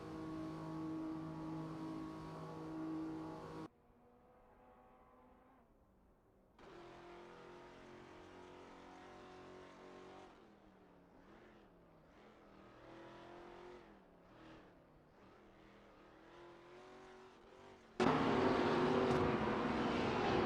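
Simulated hypercars driven by AI in a racing game roar through engine notes, with shifting revs and hard cuts between loud passes; a sustained engine howl fills the track and grows loudest near the end, with no talk.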